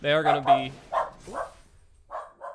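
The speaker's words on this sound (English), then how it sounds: "Sorry for the dog barking." A dog barks in several short bursts, a clustered run of sharp yips at the start followed by a few separate barks, close by and loud behind someone talking during an MTG Arena card game.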